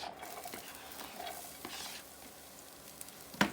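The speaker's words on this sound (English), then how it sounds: "we're going to stick them right in the saute pan with a nice hot oil." Chopped beet stems sautéing in a pan of hot oil, a quiet steady sizzle with light stirring scrapes and a sharp clink of a utensil on the pan at the end.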